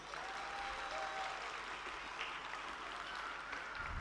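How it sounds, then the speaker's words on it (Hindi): An audience at a school's annual evening function claps for the children, a continuous even spread of applause heard from a distance at low level, with no break across the whole stretch. "तालियां."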